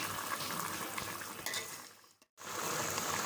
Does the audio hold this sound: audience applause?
no